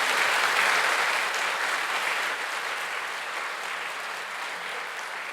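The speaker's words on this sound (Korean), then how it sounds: "우리 목사님 나오실 때 큰 박수로 한번 환영하겠습니다." Warm audience applause at a church service welcoming a visiting pastor to the pulpit, a dense crowd clapping continuously, loud at first and tapering gently.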